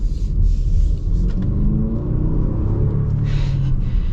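A 2026 Jaguar F-Pace with a four-cylinder engine revs from inside the cabin, a deep steady rumble that climbs and rings out over a few seconds, close and loud with no talking.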